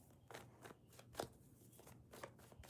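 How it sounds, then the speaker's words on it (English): Tarot cards being shuffled by hand, a series of soft riffling and snapping bursts at an irregular rhythm, close but quiet. "2 more shuffles for Taurus."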